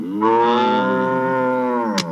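A buffalo lets out one long, deep, drawn-out moo lasting about two seconds, loud and close, heard alone and ending with a brief click.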